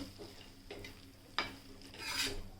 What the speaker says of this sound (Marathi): आपण आता ही कोथिंबीरसुद्धा भाजीमध्ये पूर्णपणे मिक्स करून घेणार आहोत